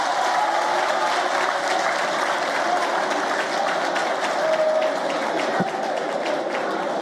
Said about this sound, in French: Vous ne devez qu'une chose pour les soldats français, les applaudir.